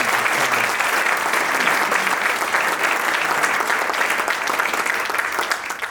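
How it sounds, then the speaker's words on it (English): An audience at the 2024 UK Red Special meetup claps loudly and steadily throughout. The applause is dense and close, with no talk heard. "a big round of applause to everyone who participated in that"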